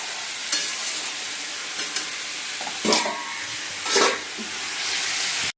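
Spinach cooking in a pan alongside fried lentil dumplings, a loud steady close sizzle with a few bursts of stirring and scraping, no talking.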